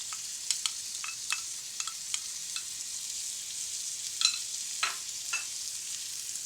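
Soft scraping and light clinks of a utensil stirring parsley, currants and sugar into rice in a frying pan, a few irregular strokes over a faint steady sizzle.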